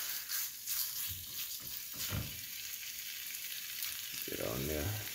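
Chicken pieces sizzle steadily in a hot pan for a Thai panang curry, a close, even frying hiss with occasional stirring scrapes and someone speaking briefly near the end.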